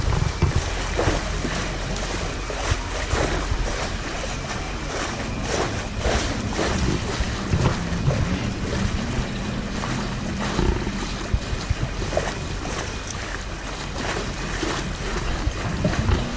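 Go Rio river shuttle boat cruising the San Antonio River, a steady close engine rumble with water wash and wind noise throughout, no talk.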